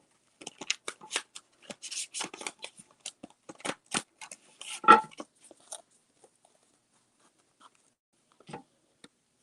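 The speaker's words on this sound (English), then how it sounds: "Let me just shuffle these cards" Tarot cards shuffled by hand in quick, irregular bursts of soft riffling and rubbing, close and quiet, trailing off into near silence with a few last taps.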